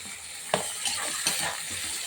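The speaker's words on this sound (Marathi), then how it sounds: "कांदा ब्राऊन झाल्यावर त्याच्यामध्ये टोमॅटो टाकून घ्यायचे." Tomatoes go into browned onions in a pan for a dried-fish chutney, and a soft, steady sizzle runs throughout, broken by a few quiet clinks and scrapes of stirring.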